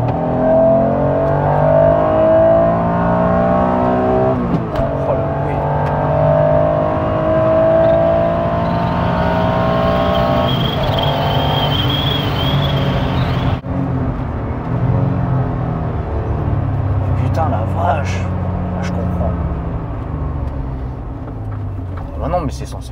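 Honda NSX sports car engine humming and revving steadily while driving, a continuous in-cabin drone with shifting pitch, heard under ongoing conversation between occupants.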